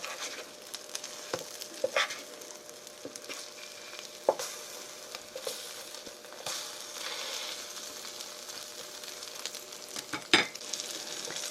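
Korean jeon pancakes fry in an oiled pan, making a quiet, steady sizzle with scattered light crackles and occasional scraping taps from a utensil, close by and with no talking.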